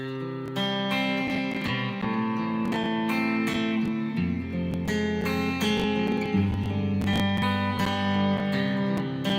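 Guitar plays a I–vi–IV–V style progression with the four chord turned minor as a borrowed chord, several strummed chords changing every couple of seconds, full and close with no speech.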